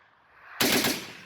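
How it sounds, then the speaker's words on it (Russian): Machine guns firing on a French Foreign Legion range before deployment to Mali: after a brief quiet lead-in, a sudden loud burst of rapid gunfire erupts nearby and continues to the end. "собрали всех пулеметчиков и дали вот так без напряга пострелять"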